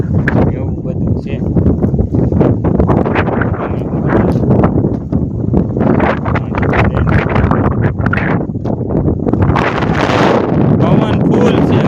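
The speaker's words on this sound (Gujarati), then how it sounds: "પવન ફૂલ છે, વાત જવા જો એવો પવન છે." A strong wind buffets across an open farm field, roaring and gusting in heavy surges against the microphone throughout. Someone talks through the noise.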